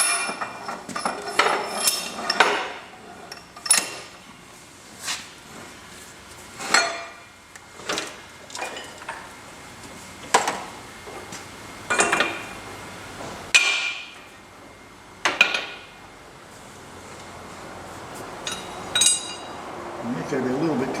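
Wheel bearing and retainer being press fitted onto an XC Falcon rear axle, giving a series of sharp metallic knocks and clinks at irregular intervals, close by, with someone talking between them.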